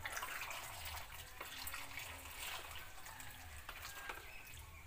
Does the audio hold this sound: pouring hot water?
yes